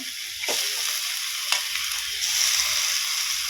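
Bottle gourd leaves and spinach leaves fry in a hot pan with a steady broadband sizzle, broken by a couple of sharp stirring scrapes, with no voices.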